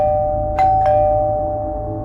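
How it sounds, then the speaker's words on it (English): A house doorbell rings with two quick chime strikes over a steady humming tone, close and clear with no voices. "Next thing you know, he is ringing the doorbell."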